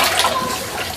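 Floodwater rushing through a flooded house in Guyana, a steady close wash of moving water filling the short moment without a break.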